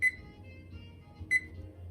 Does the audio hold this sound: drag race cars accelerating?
no